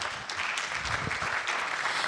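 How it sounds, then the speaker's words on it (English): Steady applause from an audience at a student panel session during an alumni homecoming, dense continuous clapping throughout with no speech. "Let's clap for this panel"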